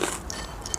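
A close, crunchy bite and chew into fresh, sour Otaheite gooseberry fruit, heard briefly and alone.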